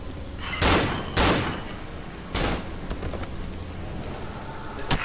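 Blasts from a Remington 870 shotgun in the horror game Cry of Fear during a co-op forest session, three loud sharp shots spaced apart over a steady rain-like ambient background.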